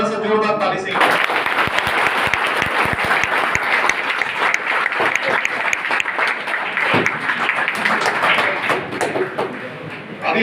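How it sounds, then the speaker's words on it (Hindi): An audience breaks into loud, sustained applause, many hands clapping densely and steadily for several seconds after a brief voice at the start. "आप लोग जरा सा जोरदार ताली से।"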